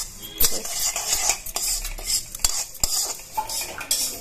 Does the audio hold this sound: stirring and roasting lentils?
yes